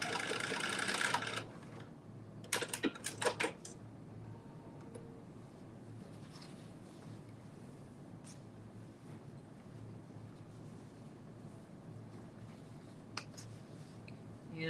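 A sewing machine runs basting stitches on a bodice in one short, close run at the start, followed by quiet clicks and faint background hiss.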